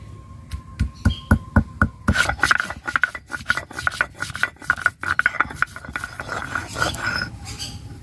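Whole cinnamon, cloves and cardamom are ground into fresh garam masala with rhythmic rasping, scraping strokes, close and fairly quiet, with no voices.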